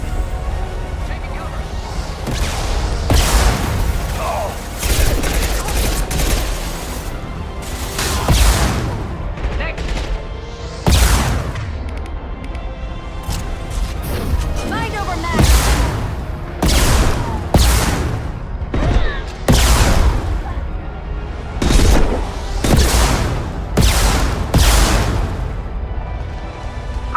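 Rapid bursts of gunfire and explosive booms from a Mass Effect 2 firefight repeat throughout, loud and dense, with game voices talking over the shooting.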